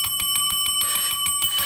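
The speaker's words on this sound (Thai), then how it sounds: "ระหว่างเสียงกระดิ่งนะ" Bell rung during a live online auction, a rapid, evenly paced series of bright metallic rings, about a dozen strikes in under two seconds, loud and close.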